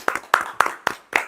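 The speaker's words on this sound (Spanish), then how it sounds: "Aplausos, por favor." Five sharp hand claps in a steady rhythm, about a quarter second apart, on a podcast set. They sound close and fairly loud, like a small group clapping in time rather than a full crowd.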